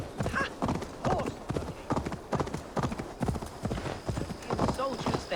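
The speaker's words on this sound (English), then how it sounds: "Horse." Rhythmic clip-clop of a horse's hooves in Assassin's Creed Valhalla: a steady, moderately close trot of repeated strikes, with a voice talking over it.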